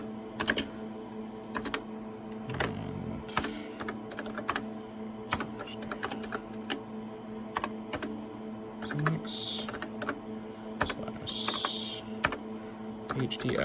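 Rapid, uneven keystrokes on a TRS-80 Model 16 computer keyboard with sensitive keys, close and clear, with short pauses between bursts of typing.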